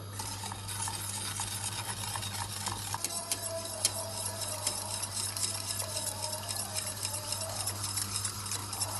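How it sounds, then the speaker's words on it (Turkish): A spoon stirs chocolate sauce in a pot with quick, repeated ticking scrapes and a faint bubbling sizzle underneath, steady and close for about nine seconds with no voices. "Güzelce karıştıralım."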